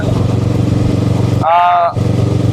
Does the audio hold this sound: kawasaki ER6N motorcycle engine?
yes